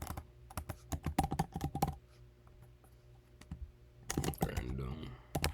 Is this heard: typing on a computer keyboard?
yes